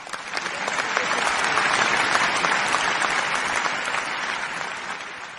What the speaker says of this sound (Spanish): Brindemos un aplauso a los alumnos de tercero C.